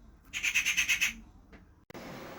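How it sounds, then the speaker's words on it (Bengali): A bird squawks outdoors in a quick series of harsh, rhythmic calls, fairly close, followed by quiet and a faint background hiss. "আর বাইরে পাখি ডাকছে।"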